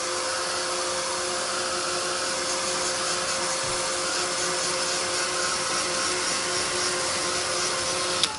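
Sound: hair dryer drying a craft project

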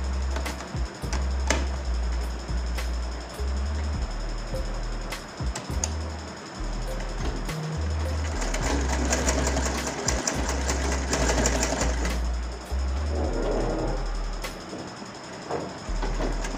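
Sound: sewing machine stitching shirt collar

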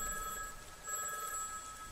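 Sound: telephone bell ringing in double rings

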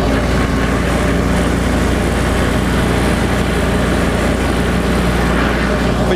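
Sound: finishing mower mowing a fence row

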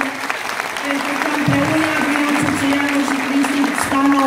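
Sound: audience applause

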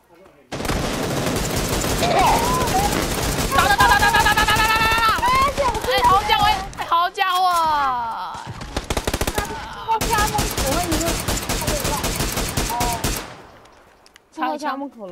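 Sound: gunfire in PUBG video game

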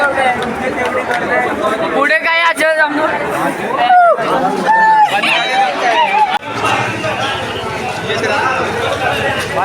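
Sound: crowded railway station chatter, Lower Parel

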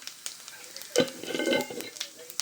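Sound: whole cumin seeds added to hot oil, sizzling

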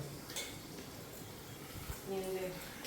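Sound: washing and stacking pots and dishes

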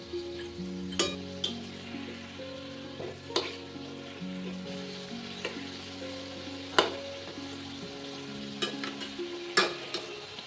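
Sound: frying food in oil

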